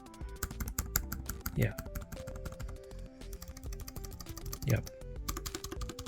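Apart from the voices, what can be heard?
typing on Lenovo SK-8855 membrane keyboard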